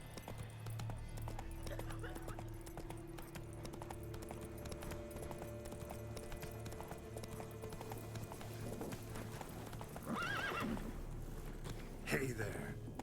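Hooves of the horse Roach clip-clopping at a walk in The Witcher video game, a steady rhythmic plod under ambient game sound and music.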